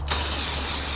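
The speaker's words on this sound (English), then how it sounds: "grab some brake clean here" Aerosol brake cleaner sprays onto a rag in a sudden, close, loud hiss that starts abruptly and holds steady for the rest of the moment.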